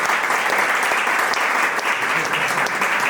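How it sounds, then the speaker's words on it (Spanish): Dense, continuous applause fills a book presentation hall, many hands clapping evenly and loudly without pause. "Un aplauso por favor para el genio."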